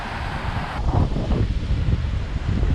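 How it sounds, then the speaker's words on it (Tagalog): Strong gusty wind at Masangreet Beach in Agno buffets the microphone, a loud rough rumble that swells and eases with no voices. "Pati yung mga drone namin hinahangin."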